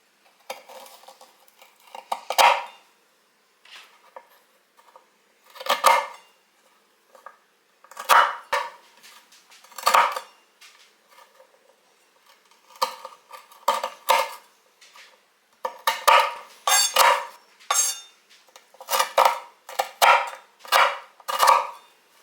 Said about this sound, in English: Let's just scoop these up, see how many we've got.